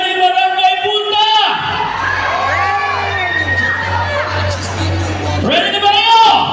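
A loud crowd at a hip-hop dance event cheers, whoops and shouts, with children's voices prominent, the roar swelling continuously over several seconds while an announcer's voice comes through at the start and end.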